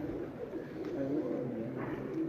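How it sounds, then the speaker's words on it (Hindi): Pigeons kept by a fancier in Kasur coo softly and low in a loft, a gentle continuous burble with faint background ambience and no speech. "कबूतर।"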